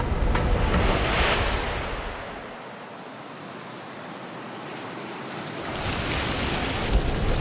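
Ocean surf breaks on the shore of one of Sydney's Northern Beaches: a loud rushing wash fades into a quieter lull, then a fresh wave surges in close to the microphone.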